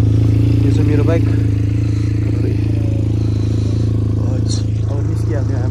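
A motorcycle idles at a jungle campsite, its steady low engine drone running continuously and close by while people talk over it.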